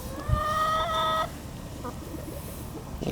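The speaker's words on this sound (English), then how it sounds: "they're very friendly chickens" Red sex link chickens in a backyard cluck close by. A short rising call opens the passage, then softer clucks and scratchy rustling follow.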